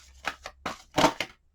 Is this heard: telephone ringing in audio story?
no